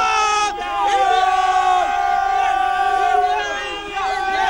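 A large cricket crowd at an India versus South Africa Champions Trophy match roars and chants for India, a loud, sustained wall of voices with rising and falling pitched cries.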